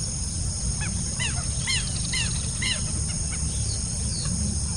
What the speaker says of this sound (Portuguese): e o vai e vem das galinhas d'água não para